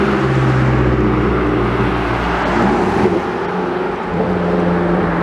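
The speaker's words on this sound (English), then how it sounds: "Hopefully the traffic noise won't be too much." Street traffic beside tram tracks, with cars rumbling close by in a loud, steady wash of engine and tyre noise that swells as vehicles pass.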